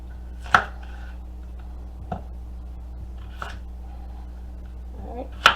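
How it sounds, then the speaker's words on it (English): A knife chops vegetables into big chunks for beef stew on a cutting board. There are four sharp, separate knocks spaced a second or more apart, close and fairly loud, with quiet kitchen background between them. "let's chop out our veggies. It's going to go right into our pan. We're going to do big chunks so they don't disintegrate away."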